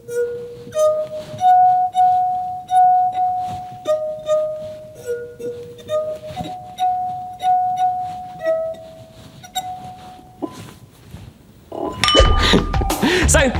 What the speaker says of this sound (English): make a number of different wine glasses and eventually play some music